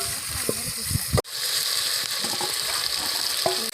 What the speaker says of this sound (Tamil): வெங்காயத்தை பொன்னிறமாக வர்ற வரைக்கும் நல்லா வதக்கிக்கிறணும்.